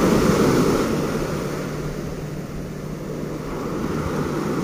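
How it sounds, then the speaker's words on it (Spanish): Strong ocean surf pounds a beach at Playa Icacos, a steady loud roar of breaking waves with wind noise across the microphone, swelling and easing slightly, no voices. "se las lleve el mar en un fuerte oleaje"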